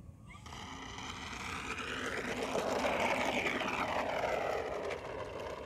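An E-flite P-51D June Nite V2 RC warbird model, 1.2 m span, flies past outdoors, its electric motor whine rising and sweeping in pitch as it nears, then easing off, steady and moderately loud with no voices.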